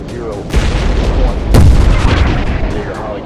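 Booming explosions from a jet fighter video game, Combat Air Jet, with a Ukrainian MiG-21. A heavy blast lands mid-clip over rumbling gunfire and crackle, and talk sits in the background.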